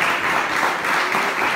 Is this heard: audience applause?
yes